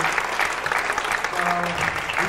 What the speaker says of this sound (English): a really warm, wonderful round of applause to Footprints Dance Company.